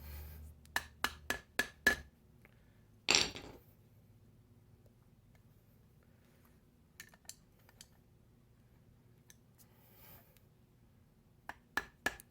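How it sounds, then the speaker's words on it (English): Sharp metallic hammer strikes knocking out a spring clip on a ceiling fan flywheel ring out in quick bursts of four or five blows, separated by long quiet gaps, with a single heavier blow in between. "hammer out the spring clip"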